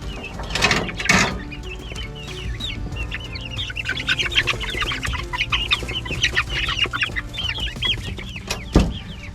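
Young chicks clucking and peeping busily in a coop during a summer heat wave, a continuous chorus of many small close birds with a couple of louder bumps near the start and end.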